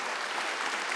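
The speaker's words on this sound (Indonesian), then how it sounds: "Tepuk tangan bagi Allah kita." A church congregation claps together during a worship service, a steady dense wash of applause filling the room for a brief moment with no voices standing out.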